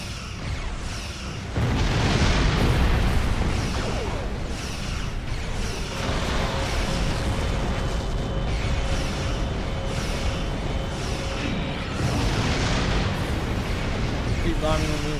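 Bombing explosions in the Xbox One video game Star Trek Online rumble as a dense, continuous barrage of booms and bursts, loud and close, with a sudden heavier onset and talk underneath.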